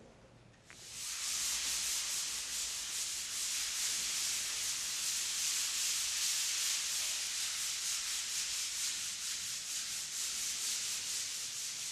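Sandpaper of 80 grit works steadily over a first coat of Pandomo stucco, producing a continuous close, hissy scraping with a faint back-and-forth rhythm.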